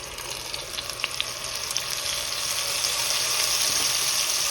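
An onion mixture fries in hot ghee in a pot, giving a dense, close, continuous sizzle that swells slightly louder toward the end, with a few small pops and no talk.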